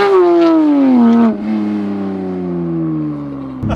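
A Porsche GT3 accelerates hard from a standing start, its engine screaming loudly and close. The pitch falls slightly, then drops sharply at a gear change, and the engine pulls on at a lower, steady roar.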